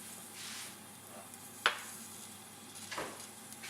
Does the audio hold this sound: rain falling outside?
no